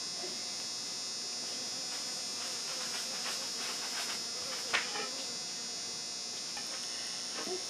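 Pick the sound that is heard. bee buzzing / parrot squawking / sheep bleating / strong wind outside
bee buzzing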